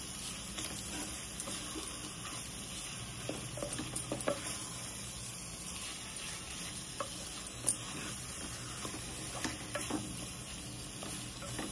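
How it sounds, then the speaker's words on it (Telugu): Gongura paste fries in oil with chicken masala, a quiet steady sizzle broken by scattered scraping stirs close to the pan, and no one speaks. "ఇప్పుడు మనం ఈ ముద్దగా చేసుకున్న గోంగూర పేస్ట్ ఇందులో వేసుకుందామండి."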